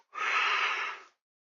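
A single breathy yawn-like exhale from a man, about one second long, close and fairly loud, then silence.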